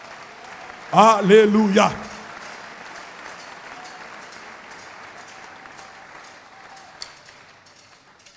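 A church congregation breaks into brief applause, a short burst of clapping and raised voices that swells and fades within about a second, followed by quiet room tone with faint murmuring and a single small knock.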